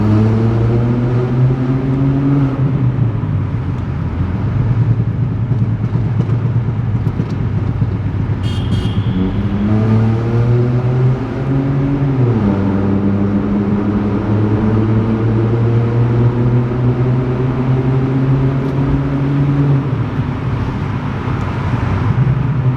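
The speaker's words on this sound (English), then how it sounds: "crack the window open just a little bit so that you can hear this wild exhaust for this 1 liter TSI" Loud stage 2 exhaust of a 1.0 TSI VW Polo GT driving through a tunnel, a steady droning engine note that rises and falls with gear changes and revs, close and continuous with no talk.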